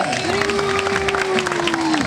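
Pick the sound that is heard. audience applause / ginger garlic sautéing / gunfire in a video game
audience applause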